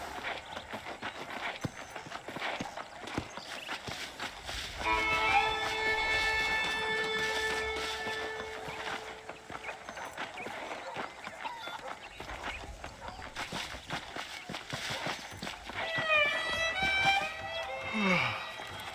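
Horse hooves clip-clop steadily as the horse is ridden in the Red Dead Redemption video game, under music with sustained tones and other game sounds.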